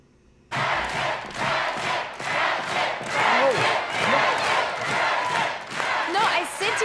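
A large audience at a televised talent-show semi-final bursts into loud, sustained cheering and whooping that swells and holds for several seconds, with individual shouts standing out from the roar.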